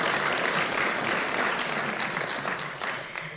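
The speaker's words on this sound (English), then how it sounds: "So a round of applause to them for their wonderful performance." An audience applauds musicians after their performance, a dense, steady wash of clapping that carries on for several seconds and then fades slightly toward the end.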